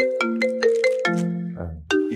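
A phone ringtone plays a short melodic chime pattern of repeated tones, clear and prominent in a comedy sketch scene.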